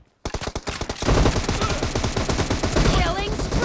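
Video game gunfire in PUBG bursts close and loud: rapid automatic volleys roll into a dense, continuous barrage of overlapping shots, with no voices over it.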